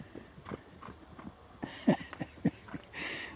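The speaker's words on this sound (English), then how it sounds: "If you hear that click clopping, the horse decided now is a good time to go to the pasture." A horse's hooves clip-clop at a walking pace as it heads out to pasture, a series of faint, uneven knocks that sound somewhat distant, with no talking.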